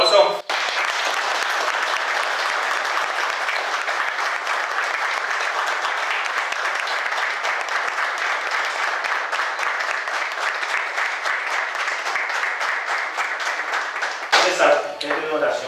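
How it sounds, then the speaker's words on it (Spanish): A congregation applauds at a baptism service, a dense, steady wash of clapping that fills the room for about fourteen seconds before breaking off, with a few voices talking underneath. "¿Un aplauso?"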